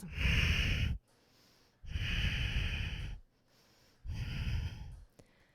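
Deep yoga breaths through the nose, three long, loud, close airy exhales or inhales of about a second each, separated by short quiet gaps.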